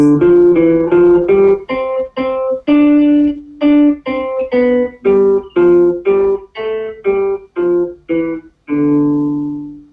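A plucked guitar climbs through a run of single notes in an unusual stepwise pattern, each note ringing briefly before the next, ending on a longer sustained tone.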